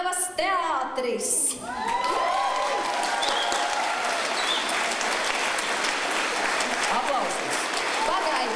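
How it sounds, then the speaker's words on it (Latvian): A seated audience claps steadily at an awards ceremony for a town theatre, with dense, sustained applause running throughout, punctuated by a few whoops and cheers near the start. "Tagad var aplausus!"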